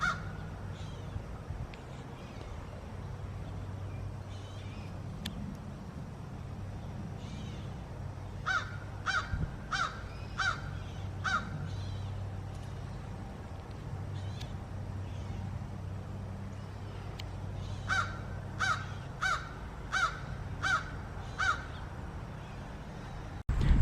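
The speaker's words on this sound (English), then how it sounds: "That's his bird Fred." A pet bird gives crow-like caws in two bursts of rapid, evenly spaced calls, fairly close and clear over a steady low indoor hum.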